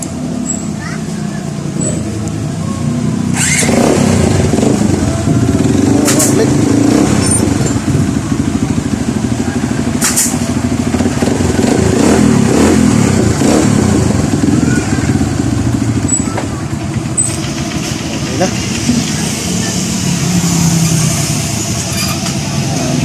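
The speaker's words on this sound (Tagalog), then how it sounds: "subukan natin yung bagong kabit na starter ng XR150" A Honda XR150L motorcycle with a newly installed starter cranks and starts, then its engine runs with a loud, rough, close rumble that lasts a long stretch while people talk nearby.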